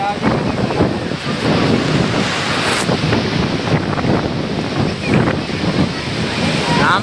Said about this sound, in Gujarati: ખતરનાક હો વાવાઝોડો વરસાદ